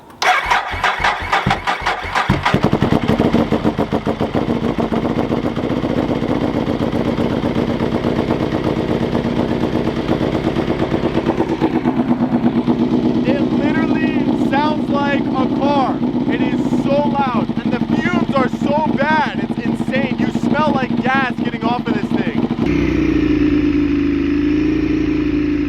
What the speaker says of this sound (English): But you have to listen to this cold start.